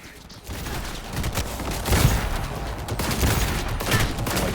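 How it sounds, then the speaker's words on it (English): Bursts of rapid gunfire from a newly acquired gun in the video game Cyberpunk 2077, dense and loud across the whole stretch with overlapping shots. "This is our new gun."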